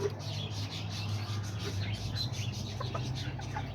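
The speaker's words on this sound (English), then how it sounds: "Got this little guy with these little chickens right here" Small backyard chickens cluck softly and intermittently at a distance, quiet and scattered over a low hum and faint outdoor background.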